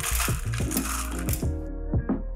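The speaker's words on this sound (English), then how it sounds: "Top it up with more crushed ice." Crushed ice added to the top of a Hurricane cocktail in a large glass: close, sharp clinks and rattles of ice falling in quick clusters, followed by a couple of isolated clicks.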